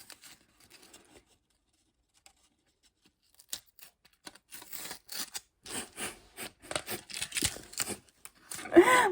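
Cutting and peeling open a package: faint at first, then a string of close crinkling, snipping and tearing rustles that build in loudness toward the end, with no one talking.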